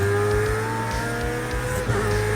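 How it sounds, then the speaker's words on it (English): A Ferrari 488 is driven in the Project Cars 2 racing game, its engine humming at a steady, fairly loud pitch, with gear-shift dips and a brief tire squeal near the end. "We're going to drive in the first car that I ever drove in this game. That's the Ferrari 488."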